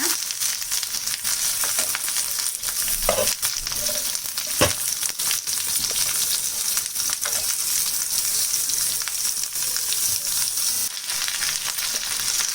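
Tomatoes sizzle and fry in a pan for a restaurant-style matar paneer, with a steady broadband hiss and scattered scraping clatters as they are stirred, no voices.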